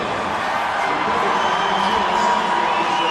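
A rugby stadium crowd of over 30,000 at a World Cup match between Australia and the USA roars in a continuous dense wash of cheering and shouting, with a commentator's voice faintly beneath.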